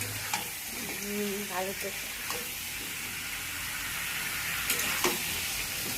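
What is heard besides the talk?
chicken meat sizzling in a pan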